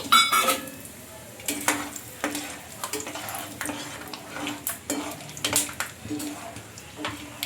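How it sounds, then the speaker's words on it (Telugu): Peanuts frying in hot oil in a pan, a steady soft sizzle broken by frequent scraping stirs and clinks of a utensil against the metal, close and moderately loud. "ఇంకా ఇప్పుడు ఇదే ఆయిల్లో పల్లీలు కూడా ఫ్రై చేసుకోవాలి."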